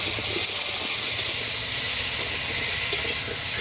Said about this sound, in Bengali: গাঠিটার মধ্যে লবণ হলুদ দিয়ে ভালো করে ভাজবো